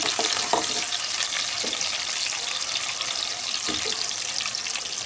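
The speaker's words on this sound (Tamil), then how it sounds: "ஈரல் போட்டுட்டு நல்லா வதக்கி விட்டுக்கணும்" Chicken liver sautéing in a pan, a steady loud sizzle with occasional stirring scrapes running through the whole stretch, no talk over it.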